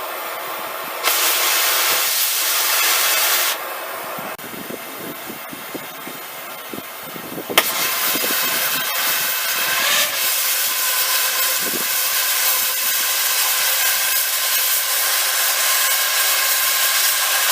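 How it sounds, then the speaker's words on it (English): A pipe beveler cuts through a weld on pressure pipe, giving a loud, steady grinding hiss that shifts in pitch partway through and runs continuously with no talking. "So I got my beveler, so I'll cut this weld up and tack it up"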